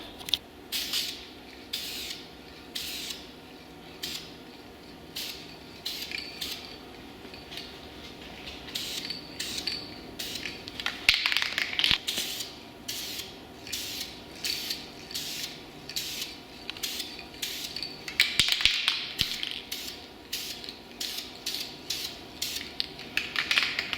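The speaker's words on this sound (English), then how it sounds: "I can give this one a good minute of shaking, and then I'll spray kind of a real thin coat" A spray paint can is shaken hard for a long stretch, its mixing ball rattling in quick regular clacks, then short hissing bursts of spray go onto a Nissan Maxima rear panel, all close up with no talk.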